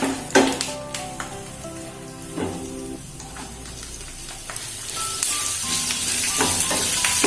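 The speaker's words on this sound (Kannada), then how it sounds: "ಕರ್ಬೇವಿನ ಸೊಪ್ಪು ಮತ್ತೆ ಒಣಮೆಣಸಿನ್ಕಾಯಿ ಹಾಕೊಳ್ಳಿ. ಸ್ವಲ್ಪ ಫ್ರೈ ಆದ್ಮೇಲೆ" Curry leaves and dried red chillies fry in oil for capsicum rice: a few spoon clinks and stirs open, then a bright crackling sizzle builds and spreads, close and fairly loud, with no voices.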